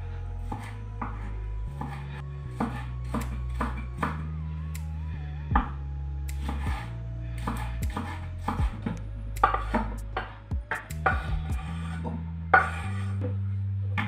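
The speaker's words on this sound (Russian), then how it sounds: "нарезать средним" A knife chops tomatoes into medium cubes on a cutting board. Quick, irregular taps come in steady runs, with faint background music underneath.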